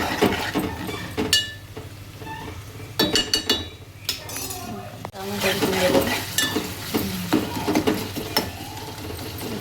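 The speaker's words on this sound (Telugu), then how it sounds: "టమాటాలు వేసుకోవాలి." Tomatoes stir-fried with ginger paste in a pan on low heat: an ongoing gentle sizzle with clattering spatula scrapes against the pan, some in quick bursts, close and clear.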